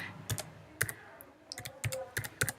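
Keys clicking on a MacBook keyboard, several short crisp taps in an irregular rhythm, close and fairly quiet with soft pauses between bursts.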